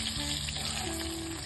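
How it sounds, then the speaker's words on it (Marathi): Garlic frying in oil in a pan for Marathi-style dal tadka, a steady, close sizzle holding at an even level throughout with no talk over it. "लसूण पण आपला चांगला फ्राय होऊ द्यायचा"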